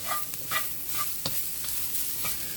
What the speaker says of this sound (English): So just some quick stirs in the hot pan is all we need to do.